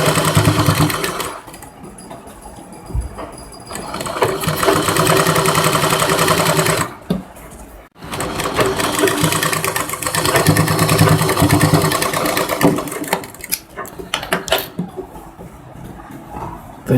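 A sewing machine stitching lace onto a princess cut lehenga blouse, running in loud sustained whirring bursts with brief pauses between runs, close up.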